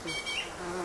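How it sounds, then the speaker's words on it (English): A striped bumblebee buzzes in a garden, its steady droning hum close and continuous for the whole moment with no voices over it. "Oh, his bumblebee come as well."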